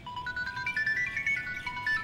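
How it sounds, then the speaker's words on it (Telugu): A mobile phone ringtone plays a bright repeating electronic melody, clear and fairly loud indoors, with no talking over it. "ఎవర్రా ఈ టైంలో ఫోన్ చేస్తుంది?"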